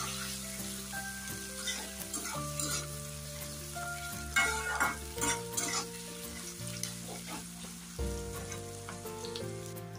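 Onions frying in a pan for prawn curry masala, a steady close sizzle running the full length under background music, with occasional louder scraping stirs around the middle.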